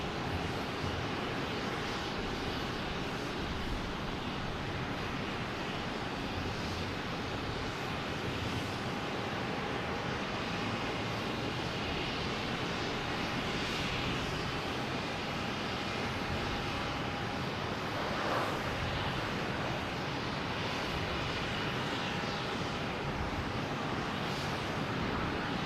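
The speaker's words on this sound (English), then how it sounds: "flight 2156, a 757. Landing on 4 right." A United Airlines Boeing 757 from San Francisco lands on runway 4 right at Boston Logan, its jet roar a steady broad rumble throughout, distant and unchanging, with wind noise and no talk.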